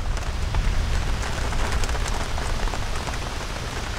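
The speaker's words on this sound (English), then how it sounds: "The rain is still coming down." Steady, heavy rain pours down at a lakeside golf course, a dense continuous patter with no voices.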